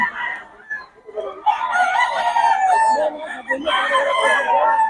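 A Boston Roundhead rooster crows loudly and close by in a long, wavering call with a second crow following, with some clucking and voices in the background.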